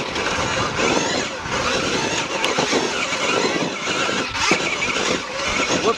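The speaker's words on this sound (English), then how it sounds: "Okay, first time up this on the e-bike." KTM Freeride E-XC electric dirt bike climbing a steep rough hill, its steady motor whine mixed with continuous wind and terrain rumble, close and loud throughout.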